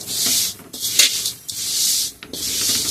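Dry poha (flattened rice) being stirred and roasted in a pan, a steady scratchy rustling with brief pauses and scraping strokes, close and fairly loud with no talking.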